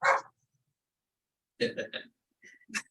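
A dog barks a few short, sharp times close by in a quiet meeting room, with silent gaps between the bursts.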